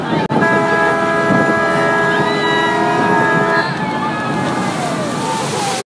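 An amphibious duck boat cruises along the Tennessee River on a tour. Water sloshes and surges steadily against the hull under a constant engine drone and wind noise, with a long tonal hum in the middle.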